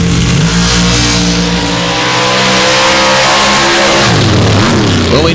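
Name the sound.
stock Jeep and Bronco engines revving at a race track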